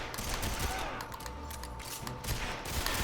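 Dense gunfire from the GoldenEye video game fills the stretch, with continuous, rapid automatic bursts layered and steady throughout, fairly loud and busy with no clear gaps.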